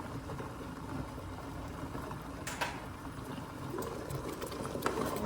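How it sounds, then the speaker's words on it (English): A pot of water boils on the stove while pasta and meatballs are being cooked, giving a steady, low bubbling rumble with faint scattered pops that holds evenly throughout. "And hear it boiling."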